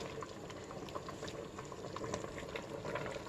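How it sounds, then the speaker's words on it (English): Chicken soup meat boils in a pot, with a steady, close, continuous bubbling and simmering and no voices. "Our meat has been boiling"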